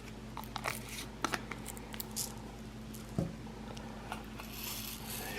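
Small pelleted carrot seeds poured into a container and shaken about, giving a few light patters and crinkly rustles over a steady low hum, close and fairly quiet.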